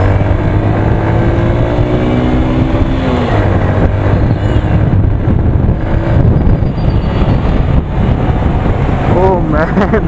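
A motorcycle engine drones steadily while the bike is ridden on a Sunday outing, with wind rush across the microphone and someone talking over the engine noise.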